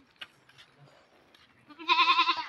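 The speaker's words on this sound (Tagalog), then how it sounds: "Daming kambing." Goats bleat close by: after a stretch of quiet shuffling and faint murmurs, one loud, wavering, drawn-out bleat rings out near the end.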